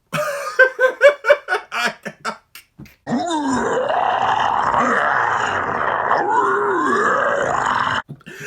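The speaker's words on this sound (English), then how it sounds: "I know some folks don't really like his roar because he doesn't have the Godzilla trademark roar." Roar from a Mondo Hanna-Barbera Godzilla museum figure: a run of short guttural grunting pulses, then a long, loud, rasping roar that wavers in pitch for about five seconds before cutting off.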